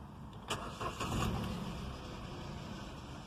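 A 2015 Kia Picanto 1.0 petrol hatchback with a 5-speed manual gearbox starts up: a short burst of starter cranking catches, and the small engine settles into a steady idle nearby.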